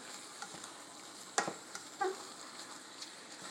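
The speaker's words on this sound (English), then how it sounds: "I'm gonna stir it all in" A thickening mixture is stirred in a pan, with a low, quiet frying hiss broken by a couple of short scraping knocks from the spoon.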